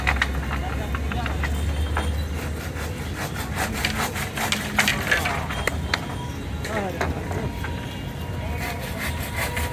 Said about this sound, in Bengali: বাসগুলি একটু কেটে নিচ্ছি যাতে নিতে সুবিধা হয়